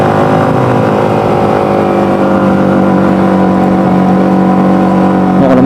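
An automatic scooter accelerates to overtake on a road toward Karang Bolong in Kebumen, a steady loud droning engine that holds throughout, close to the rider, with no talking.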